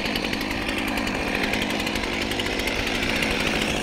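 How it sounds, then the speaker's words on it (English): A running chainsaw cuts into a muddy log, giving a loud, continuous, buzzing whine that holds steady and close throughout. "Now we're gonna take our chainsaw"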